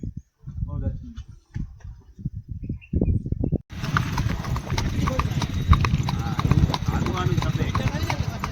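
A mare's hooves clip-clop steadily on a farm, a brisk, even rhythm of hoof strikes that takes over after a stretch of voices talking near the start.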